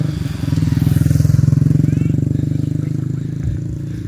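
A motorbike engine chugs loudly nearby with a throbbing, pulsing rumble that swells and then eases as it goes past, in Kuala Selangor, Malaysia.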